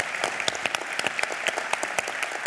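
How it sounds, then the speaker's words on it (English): Applause from an audience at a conference opening plenary: scattered, distinct claps at a steady moderate pace, fairly faint and with no voices over it. "Can I ask for a round of applause in her absence?"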